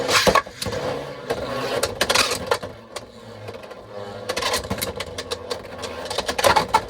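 Beyblade X spinning tops clash in a stadium with sharp repeated metallic and plastic impacts, a brief hard collision burst at the start, then steady whirring spin and scattered clacks building to a final flurry of hits.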